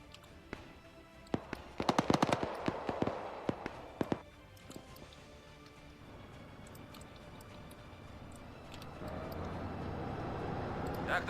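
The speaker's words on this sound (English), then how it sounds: "She's lining up and opening fire on what we got over there." Gunfire in the military video game Arma 3: scattered sharp reports cluster in the first few seconds, followed by a rising steady rumble, some shots distant and some closer.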